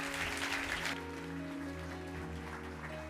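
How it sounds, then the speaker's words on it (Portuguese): A church congregation claps together in a short burst of applause that lasts about a second, then fades into a quieter, scattered patter over a low room hum. "Você pode aplaudir o Senhor?"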